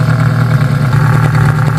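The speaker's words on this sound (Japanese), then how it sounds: "デュアルのマフラー音もね迫力あっていいですね。" A classic Mitsubishi Colt Galant A II GS idles through its dual exhaust mufflers, giving a loud, close, steady low rumble with no voices over it.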